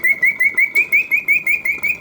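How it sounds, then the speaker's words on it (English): A vintage Karl Griesbaum mechanical singing bird cage chirps in a rapid, even series of about nine rising whistled notes, loud and close, with faint mechanical ticking underneath. "It sings perfectly, hitting all the proper oscillating notes, yet the mechanism runs smoothly and quietly."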